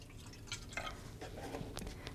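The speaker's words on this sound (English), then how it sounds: "And pour my rubbing alcohol into my two containers here." Rubbing alcohol is poured into two small containers, giving faint, close trickles and a few soft drips over low room noise, with no talking.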